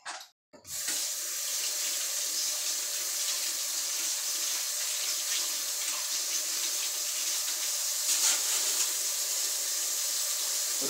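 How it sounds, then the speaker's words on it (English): A cast iron skillet being rinsed under running tap water, a steady sink-filling rush of water that holds the whole stretch alone and close, with no talk. "Just rinse that off again."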